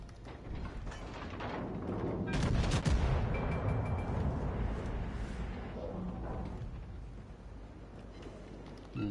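Naval gunfire from the battleship Hyuga in World of Warships, heard as deep rumbling booms that swell into a thick, sustained roar and slowly fade, with only faint talk.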